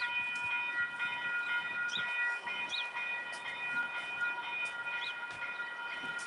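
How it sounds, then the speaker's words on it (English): A train standing nearby at a station, heard as a steady mechanical hum with tonal whine layered over diffuse outdoor background noise, fairly continuous with a few faint higher squeals, no talk. "There's a train waiting over there."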